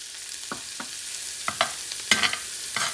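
Minced garlic fries in a pot for baião de dois, a soft sizzle under several distinct scraping stirs of a utensil against the pot, close and fairly quiet.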